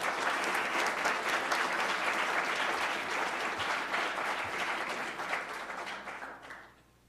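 An audience at a conference panel session breaks into sustained, dense applause welcoming the panelists, steady and loud for several seconds before tapering off quickly at the end, with no talking over it.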